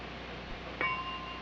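A single bell-like ding rings once on a quiet television game show stage, brief and clear against a faint hum.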